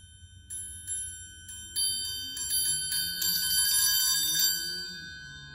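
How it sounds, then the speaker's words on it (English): Several bright, high metallic strikes ring out one after another, building into a shimmering tinkly roll that sustains and then fades, with a low hum beneath. "It's a beautiful triangle and it makes a high tinkly sound."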